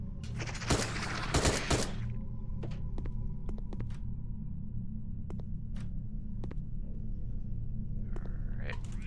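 Gunfire from SMGs in the first-person shooter Dino Trauma, a dense loud burst of rapid shots in the opening two seconds, then scattered single sharp cracks over a steady low rumbling hum.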